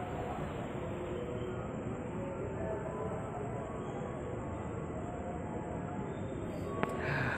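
A locomotive returning to the depot rumbles along track 6 at Jatinegara station, a steady low drone at moderate distance with a brief sharp metallic click near the end.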